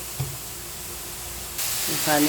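Spice masala sautéing in a pan, a continuous hissing sizzle that swells louder partway through, close by, with a brief voice near the end.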